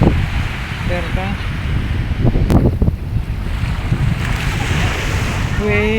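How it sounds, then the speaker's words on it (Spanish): Sea waves wash and churn in a steady roar with strong wind buffeting the microphone, loud and close, with a brief voice or tone rising partway through. "desde el fondo de la mar las olas no están tan enojadas, están pues lo normal"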